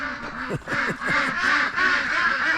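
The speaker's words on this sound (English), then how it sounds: "I hear the ducks. They probably want their breakfast." Several ducks quack loudly and close by in a rapid, overlapping chorus, with harsh nasal calls repeating over a few seconds and no talking.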